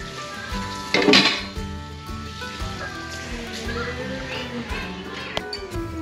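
Stuffed plantain balls with cheese and salt cod frying in a pan, with a loud clatter of utensils and dishes, then a soft sizzle under light kitchen sounds.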